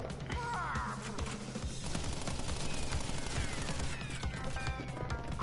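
Pinstripe's tommy gun rattling in Crash Bandicoot, dense overlapping bursts of rapid gunfire with crashes and game effects, loud and continuous throughout.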